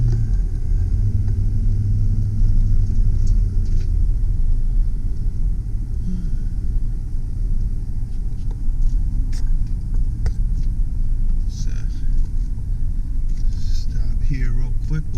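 A 2005 Chevy Silverado 2500 HD pickup driving in four-wheel high gives a steady, loud low engine and road rumble throughout, with someone talking over it.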